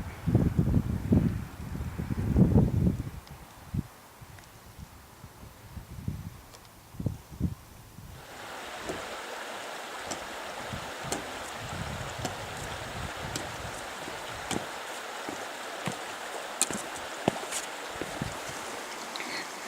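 A small river marking the Northumberland border flows with a steady, moderate rushing hiss, preceded by gusty wind buffeting and a few footstep knocks before the water sound takes over.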